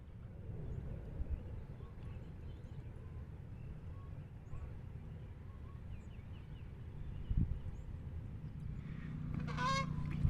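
Geese honk in scattered calls at a dog park, fairly faint against a low outdoor rumble, with a louder burst of honking near the end.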